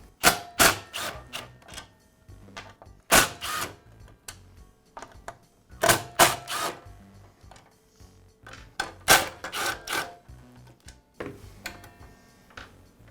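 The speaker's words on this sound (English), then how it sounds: "I'll begin by removing the old lower guard from the saw." Parts of a DeWALT miter saw being worked loose as its old lower guard comes off: irregular sharp clicks, taps and plastic-metal clatter in scattered bursts, close by with quiet gaps and no speech.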